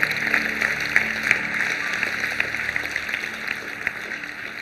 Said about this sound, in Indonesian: Silakan berikan tepuk tangan buat Tuhan kita tercinta.